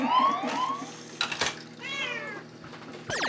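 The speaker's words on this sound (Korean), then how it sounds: "카이의 울음소리가 들리면 하나둘 모여 간식을 즐깁니다" A cat meows repeatedly up close, with long, wavering, siren-like cries broken by short pauses and a few clicks.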